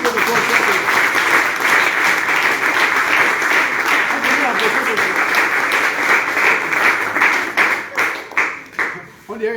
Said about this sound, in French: Tu veux acclamer, tu acclames.